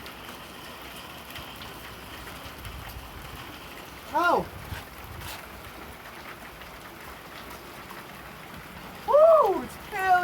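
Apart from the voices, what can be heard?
hail falling on a car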